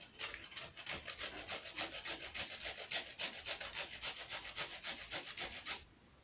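Lemon rind rasped across a grater for Kenyan lemon mandazi, a steady run of quick, even scraping strokes repeating for about six seconds, close and moderately loud with no talk.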